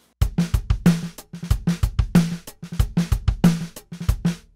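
A Superior Drummer 3 groove plays on the Hansa vocal booth kit, unprocessed: a tight, steady beat of punchy kick and snare hits with crisp cymbal strokes, close and loud, without any voice.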